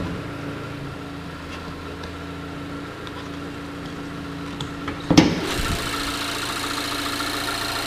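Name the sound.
2016 Mazda 3 hatchback 2-liter SkyActiv engine idling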